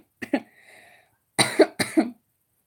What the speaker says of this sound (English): The coughing never gonna go away, so you guys will hear more coughing